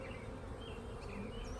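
Honeybees buzz steadily around frames pulled from a backyard beehive, a close, continuous droning hum with no voices over it.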